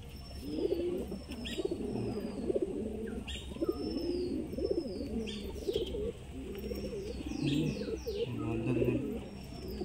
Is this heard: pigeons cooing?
yes